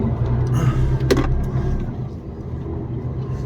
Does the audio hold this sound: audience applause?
no